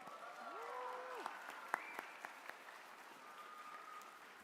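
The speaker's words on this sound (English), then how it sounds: "let's give some noise to our sponsors real quick. Clap it up" An awards ceremony audience claps for sponsors, a soft, distant patter with a few sharper claps, under whoops and cheers from the crowd.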